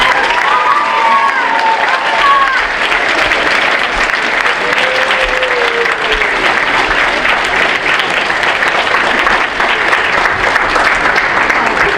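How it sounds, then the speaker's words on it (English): An audience at an 8th grade step-up ceremony gives parents and guardians a loud, sustained round of applause. Dense clapping fills the whole stretch without a break, and a few faint voices rise above it. "Students, I'd love for you to give your parents and guardians a nice round of applause for all."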